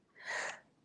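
A single short sneeze, breathy and fairly quiet, ending with a brief sharp click.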